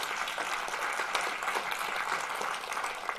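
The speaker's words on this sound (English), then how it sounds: "So can we please give our panel a round of applause?" A university STEM careers night audience in Adelaide gives a panel a steady round of applause, with dense continuous clapping holding at an even level from start to finish and no voices.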